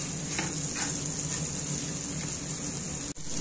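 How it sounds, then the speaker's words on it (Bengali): Chopped onion fries in hot oil in a wok with a steady, close hiss and sizzle. Faint scrapes of stirring come through, with a brief drop in the sound near the end. "পেঁয়াজটা এবার ভালো করে নেড়ে চেড়ে লাল হওয়া পর্যন্ত ভেজে নিতে হবে।"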